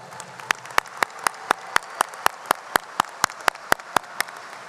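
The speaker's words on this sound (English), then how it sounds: "So give her another round of applause." Commencement ceremony audience clapping, heard as a steady run of about seventeen sharp, evenly spaced claps that stand out clearly over a low background hum.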